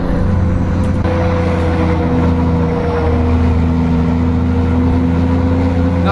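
A heavy truck engine in Euro Truck Simulator 2 hums at a steady idle with droning low tones and a faint whine, constant and close, with no talking.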